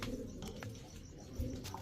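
Pigeons kept for sale at a hobby pigeon market give soft, low, faint cooing that runs through the short stretch, with a slightly fuller coo near the end.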